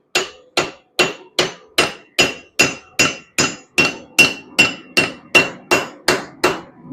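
A hammer strikes a Viking-age sword blade on an anvil about fifteen times in a steady, even rhythm, each blow loud, close and ringing briefly before the next.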